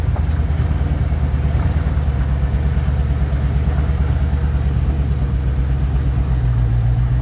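A 1954 Chevy 3100 pickup truck engine pulls steadily in first gear, a loud, continuous low rumble that holds an even pitch throughout with no voices.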